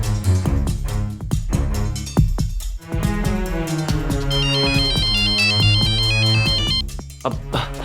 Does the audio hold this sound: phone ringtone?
yes